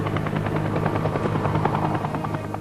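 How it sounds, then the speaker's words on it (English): A helicopter drones overhead with a loud, steady rhythmic blade thump and engine buzz, continuous and close throughout. "maybe a helicopter a day would pass"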